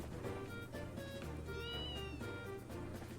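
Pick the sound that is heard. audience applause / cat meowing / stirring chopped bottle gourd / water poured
cat meowing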